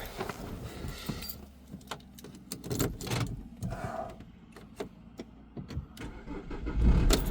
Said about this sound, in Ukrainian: мотор в дуже хорошому стані, то без проблем завівся